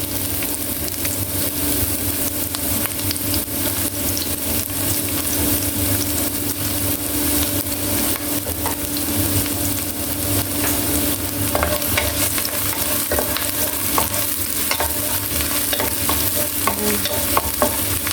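Garlic and onion sauté in olive oil in a pan for a Filipino corn and bitter melon leaf dish, a steady close sizzle with frequent utensil stirring scrapes throughout and no talking.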